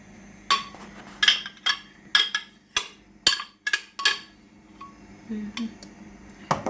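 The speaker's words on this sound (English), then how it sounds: "And of course we not left nothing in a blender. I scrape out every single thing." A series of sharp clinks and scrapes as a utensil knocks and drags against a hard blender jar, scraping out plantain porridge, about a dozen hits spaced unevenly, close up.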